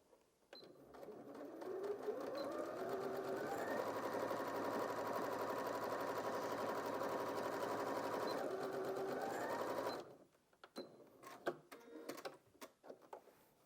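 A Janome DKS30 sewing machine stitching through four layers of fabric, a steady fast mechanical whir running for about eight seconds before stopping, followed by soft handling clicks.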